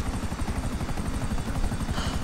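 A helicopter in GTA 5 flies on with its rotor beating in a fast, steady thump, loud and close under a continuous engine drone.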